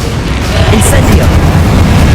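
A fire spell cast in the Hogwarts Legacy video game, a loud continuous roaring whoosh and rumble with crackling bursts, steady and dense throughout.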